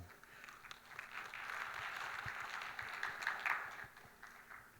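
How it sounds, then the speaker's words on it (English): A conference audience at a tea forum claps steadily, a soft, diffuse wash of applause heard from a distance that swells slightly in the middle and then tapers. "A big round of applause, please."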